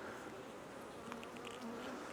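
Honeybees in a queenless beehive give off a faint, steady buzzing drone, close and continuous, with a few brief louder passes over a low background hum.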